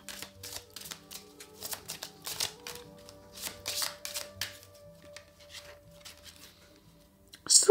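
Tarot cards being shuffled in quick riffling bursts, a steady papery patter repeating throughout, close and fairly quiet, ending with a louder handling noise.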